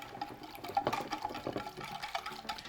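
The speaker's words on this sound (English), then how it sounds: "we're just gonna whisk that up." A whisk stirs lemon juice marinade in a bowl, making quiet, irregular liquid sloshes and light clinks in short bursts, close and fairly soft.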